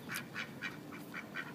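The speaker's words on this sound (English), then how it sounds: "Here are some ducks." Ducks sitting on a barge on a residential canal give a quick run of nasal quacks at a moderate distance, about seven calls in a steady rhythm over light background hum.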